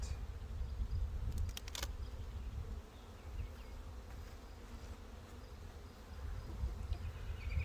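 A steady, dense drone of many honeybees buzzing inside an opened beehive brood nest, continuous and close, with a few brief clicks and knocks from the hive boxes.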